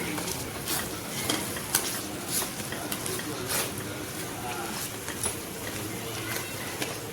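Poornam filling cooked with a tablespoon of ghee and cardamom powder is stirred in a pan over low heat, a steady scraping and soft sizzle running throughout, with a voice talking over it.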